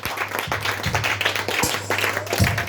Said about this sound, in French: Acclame le Seigneur, acclame le Seigneur.